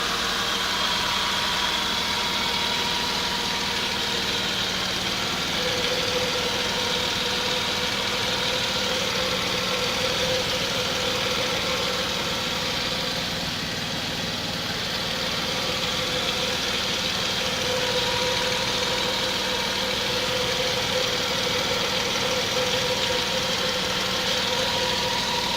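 A hot Mercedes M104 engine idles steadily, heard from under the car, with a constant even hum and faint whining tones that may include the oil pump, running throughout with no speech.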